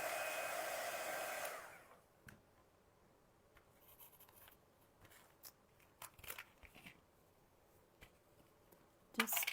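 A hair dryer blows steadily and loudly on a decoupage print, then switches off after about two seconds, leaving quiet scattered handling clicks and rustles.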